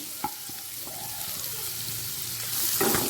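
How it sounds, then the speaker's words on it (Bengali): Chopped onions frying in a pan of oil with whole spices, a steady soft sizzle with brief stirring clatters and a louder burst of sizzling near the end. "পেঁয়াজটা হালকা লাল করে ভাজা হয়ে গেছে"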